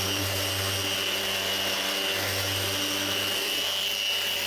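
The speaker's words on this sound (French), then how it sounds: "je peux passer un petit coup de ponceuse" A steady mechanical whir with a low droning hum runs throughout as a power sander works an old wooden cart, close and continuous with no voices.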